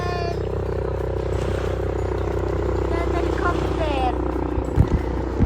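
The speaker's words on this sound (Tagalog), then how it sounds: "What's that? Helicopter." Helicopter flying overhead, a steady low rotor drone running throughout, heard at a moderate distance while people chatter and call out over it outdoors.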